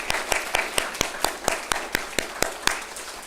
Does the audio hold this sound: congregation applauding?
yes